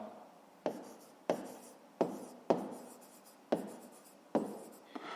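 A pen scratches in a notebook while working a fifth-grade math exercise: six or seven quick, close strokes come in an uneven rhythm, each a short scratch that fades before the next.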